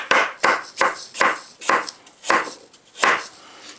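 Apples being chopped by a knife on a cutting board in a home kitchen, seven or eight sharp, evenly spaced chops, close and loud, with no talking.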